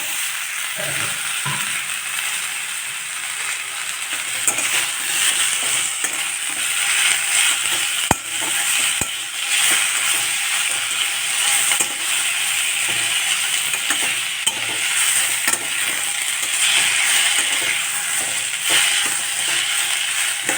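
Chopped large tomatoes sautéing in a pan for homemade tomato soup give a steady, bright sizzle with occasional clicks of a utensil, close and continuous with no talking.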